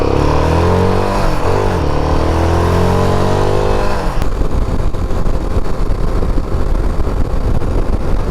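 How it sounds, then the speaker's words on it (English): A Royal Enfield Himalayan 450 cruises at highway speed, its engine drone steady and close under heavy wind rush, with a brief pitch sweep early on before settling into constant roar. "this bike doesn't have any problem cruising at the equivalent of 65, 70 miles an hour"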